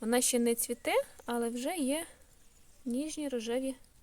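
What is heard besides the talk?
No everyday noises stand out.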